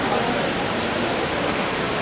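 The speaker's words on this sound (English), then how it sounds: "And they have a ridiculous looking waterfall." An indoor waterfall at Dubai airport gives off a steady, even rush of falling water, close and continuous for the whole stretch without a break.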